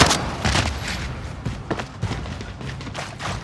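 Rapid bursts of gunfire in Call of Duty: Modern Warfare crackle repeatedly in an irregular, dense volley, loud and sharp over a rumbling background.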